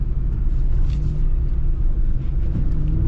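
A 2022 Ram TRX pickup with a 702-horsepower engine rumbling steadily off-road in Utah, a low, continuous engine drone heard from inside the cab, with no talking.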